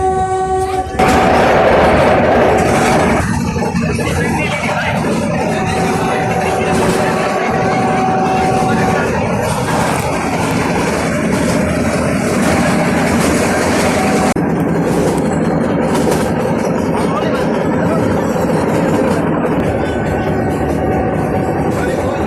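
A passenger train sets off from Junagadh station toward Sasan Gir in Gujarat, its steady rolling rumble and wagon rattle running loud and continuous throughout, with a horn sounding near the start.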